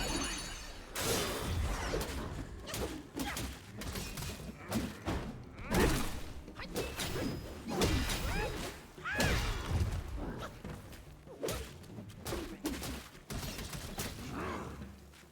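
Enemies blowing up in the action game Black Myth: Wukong, heard as a run of loud, repeated crashing bursts and shattering impacts that keep coming across the whole stretch, thick with dense combat noise.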